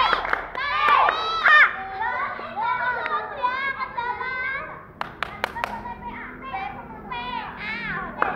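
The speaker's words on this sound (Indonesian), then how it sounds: "Pakai tepuk prok prok prok ya" Children chant the Tepuk TPA clapping rhyme together, their young voices singing over rhythmic bursts of hand claps, with a few sharp, loud claps standing out partway through.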